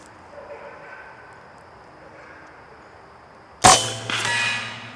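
A .25 caliber Air Force PCP air rifle fires and the pellet strikes a small chunk of block resting on a barrel: after a quiet stretch, one sharp, loud crack with a brief metallic ringing tail.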